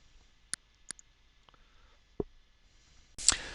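Several sharp computer mouse clicks, sparse and close over near silence, followed by a louder burst of noise at the end.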